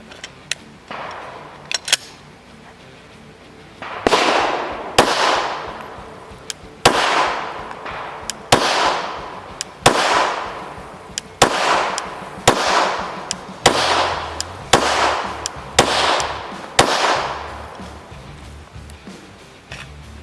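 A Glock pistol fires X-Metal reloaded ammunition in a steady string of about a dozen sharp, loud shots with short echoing tails. The shots come roughly one per second after a few quieter opening pops.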